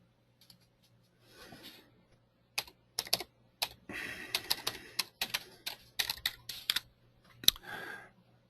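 A computer keyboard clicks in quiet bursts while SSL settings are entered, with a few scattered taps followed by a run of quick keystrokes and short pauses over a low background hum.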